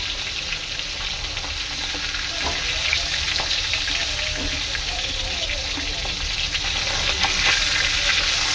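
Hilsa fish pieces fry in hot oil with a loud, constant sizzle, occasional turning clatters rising over the steady crackle.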